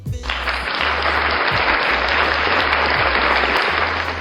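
Loud, continuous audience applause fills the moment, a dense, even roar of clapping close up with no speech over it and a low hum underneath.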